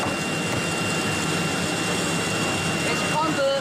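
Vacuum pump running on a 1325AC3 CNC wood carving router used for milling a wooden door, a steady loud broadband roar with no breaks, mechanical whine throughout and brief higher tones near the end.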